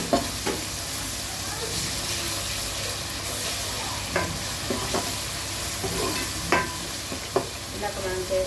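Ginger garlic paste sizzles steadily in a hot pan for bagara rice, with a constant close hiss broken by occasional scraping stirs of a spoon.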